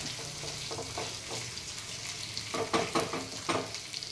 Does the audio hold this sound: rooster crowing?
no